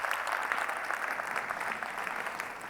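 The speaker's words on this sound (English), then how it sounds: "give the chamber staff a round of applause" Steady, dense audience applause fills a conference hall at the Detroit Policy Conference for the chamber staff, a continuous even wash of many hands clapping.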